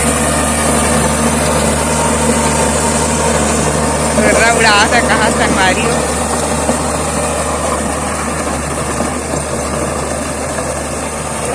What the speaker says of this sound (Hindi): देखो गाड़ी चला दे